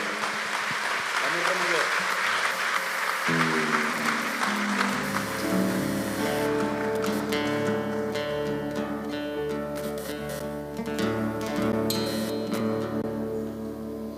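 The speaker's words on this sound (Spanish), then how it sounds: "Dale un fuerte aplauso a Él en esta mañana" Congregation applause at a church service, a few seconds of steady clapping that gives way to sustained instrumental music with guitar-like tones.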